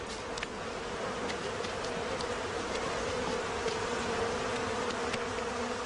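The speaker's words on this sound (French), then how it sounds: "les abeilles n'opposent aucune résistance quand, sans ménagement, les pompiers entreprennent de les transvaser dans une boîte" A swarm of honeybees hums in a dense, steady drone as firefighters transfer it into a box, the buzzing continuous and close for the whole stretch.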